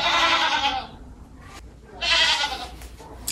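Two loud bursts of goat bleating, close by, separated by a brief quiet gap.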